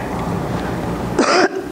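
A single short cough bursts out over a steady murmur of a lecture hall, loud and close, lasting about a quarter second before the background hum returns.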